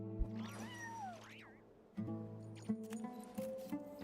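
A cat in a video game meows several times, rising and falling calls over a steady humming game background, fairly close and clear, with no speech.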